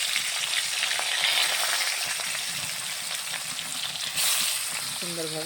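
Snakehead fish frying in hot oil in a home kitchen, giving a steady, close crackling sizzle that runs throughout, with a brief louder burst of spitting near the end.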